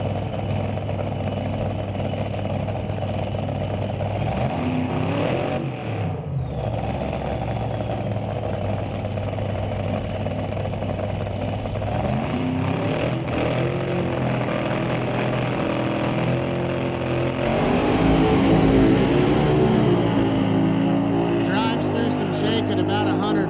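A supercharged drag racing hot rod engine runs at a Canadian NHRA drag strip, a steady low rumble heard under continuous announcer talk, with a brief sweep partway through and a louder surge near the end.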